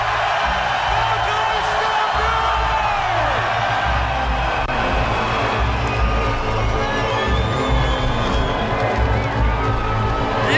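A large Glastonbury festival crowd cheers and roars continuously, with whoops and shouts over a dense, loud wall of noise that carries on throughout.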